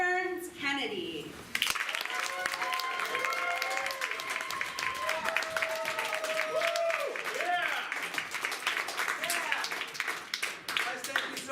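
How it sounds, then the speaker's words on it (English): Audience applause and cheering greet an improv comedy team at a live show, a continuous crowd roar with whoops and shouted voices layered over it, loud and sustained across the whole stretch. "I would love for you to give a super loud round of applause for Sideburns Kennedy."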